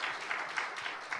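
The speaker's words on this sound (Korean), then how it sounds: "박수 박수 박수" A church congregation breaks into brief, dense applause, many hands clapping together in a steady wash of sound lasting only a moment.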